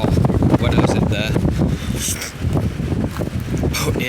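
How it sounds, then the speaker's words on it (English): Strong wind buffets the microphone at a high spot in Falmouth, with heavy low rumbling and gusty roar throughout, while a person talks over it. "it is like really windy up here"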